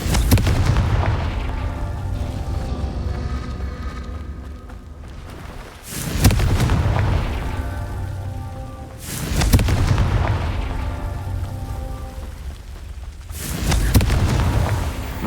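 Confringo fire spell explosions in the video game Hogwarts Legacy: three loud, deep booming blasts a few seconds apart, each followed by a rumbling, crackling tail, with no talking.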